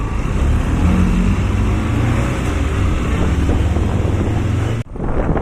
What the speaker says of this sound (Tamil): காய்ஸ் பார்த்தீங்கன்னா காற்று ரொம்ப அதிகமாக இருக்குது